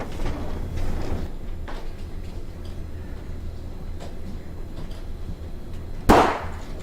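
A single sharp gunshot-like crack rings out near the end, loud and sudden against a quiet, low background hum.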